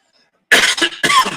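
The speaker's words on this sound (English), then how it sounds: "Sorry about that cough." Two quick harsh coughs from one nearby person, close and loud, following a brief silence.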